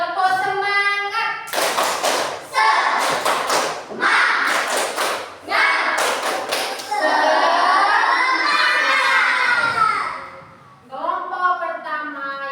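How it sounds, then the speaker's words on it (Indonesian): Classroom students perform a spirit clapping chant, loud rhythmic bursts of group claps and shouted chanting between about 1.5 and 10 seconds, with a teacher's voice speaking before and after. "kita tepuk semangat dulu. Tepuk semangat!"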